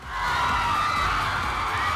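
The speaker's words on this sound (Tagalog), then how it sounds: "dumagundong na ang sigawan" A loud crowd cheers and shouts steadily as Ahtisa Manalo appears on screen, hometown supporters from Candelaria, Quezon Province roaring for the Philippine Miss Universe 2025 contestant, sustained without a break.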